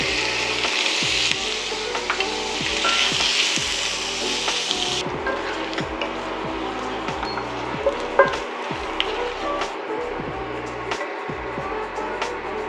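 Bacon sizzles loudly in a pan for a meat-lover's pizza, a dense, continuous close frying hiss with scraping and shuffling as strips are moved around, easing slightly after the first few seconds.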